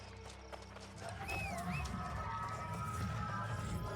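Horse hooves clip-clop steadily in the video game New World: Aeternum, a rhythmic trot over a constant ambient bed with a brief whinny-like tone, moderately loud and with no talking.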